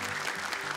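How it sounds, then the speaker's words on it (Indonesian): Brief burst of audience applause at an Indonesian televised Quran memorization competition, a dense steady clatter of clapping filling the short moment without voices on top. "Tepuk tangan untuk Abi Amir Faizofat."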